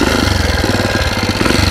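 A tuned motorcycle, a Tobec, idles with a loud, close, steady engine chug and a rapid pulsing beat throughout, alone with no talk.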